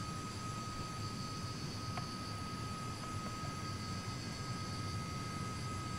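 Steady, loud roar of Comet airliner jet engines at takeoff power in FSX, a continuous broadband rumble with a faint high whine, unbroken for the whole stretch.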